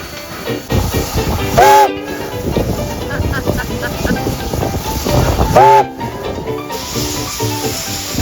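A train passes along rails nearby with loud rumbling, hissing and clattering wheels, while two short whistle or horn blasts sound, and a person talks over the noise.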